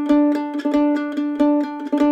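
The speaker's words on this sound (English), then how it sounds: "let's see what it's like to play triplets on the 3rd note in the measure and on the 6th note in the measure" Mandolin plays a quick Irish jig phrase with picked triplets on the third note of the measure, bright repeated notes over a steady lilting rhythm, close and alone.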